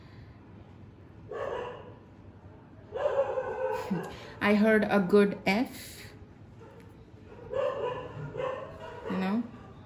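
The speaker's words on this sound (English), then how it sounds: "I'm sorry about the dogs." Dogs bark in bursts, several sharp yaps and woofs, mixed with a person talking in the foreground.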